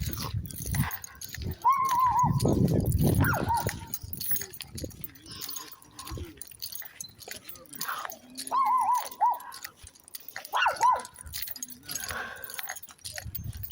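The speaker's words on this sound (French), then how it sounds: "Allez, Bella qui aboie." Bella the dog gives several sharp, high barks in scattered bursts outdoors with people around, while jingling and shuffling noises carry on in the background.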